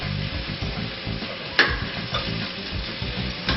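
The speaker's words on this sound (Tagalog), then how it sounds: "Then make sure all sides of the meat are well seared para hindi masayang yung juices" Beef sears in a hot pan with a steady, close sizzle broken by scraping and stirring, with occasional sharp spatters and clinks.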